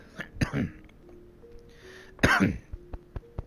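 Several harsh coughs and throat clearings, close and fairly loud, with a couple of bursts separated by quieter breathing and small clicks.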